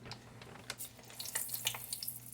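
A test piece of homemade french fry potato dropped into hot frying oil sizzles steadily, with bubbling crackle and scattered sharp pops, close up and fairly quiet.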